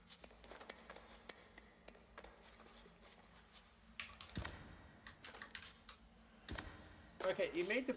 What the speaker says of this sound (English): I can still hear you heavy typing.